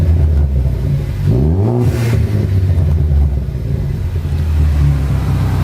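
Ford Focus ST engine fitted with a Roush cold air intake, a loud close rev that swells and drops around the middle, over a continuous deep idle rumble with no talk.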